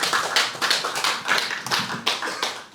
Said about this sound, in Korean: 훌륭한 강의 진행해 주신 이정 목사님 다시 한번 큰 박수 부탁드리겠습니다.